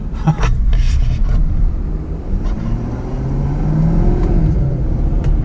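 Tuned 2018 Ford F250 pickup accelerating hard as its tires break loose, a loud, steady low engine roar heard from inside the cab with rasping road and tire noise and no talking.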